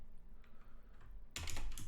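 Quiet background gives way to a fast, close flurry of keystrokes on a computer keyboard while writing Markdown text.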